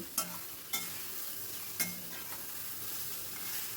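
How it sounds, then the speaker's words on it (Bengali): Metal utensil scraping a pan in a few sharp strokes over a steady background sizzle of food frying close by. "দেখো আমি কীভাবে অনবরত কিন্তু নাড়ছি নাহলে কিন্তু নিচটা পোড়া লেগে যাবে"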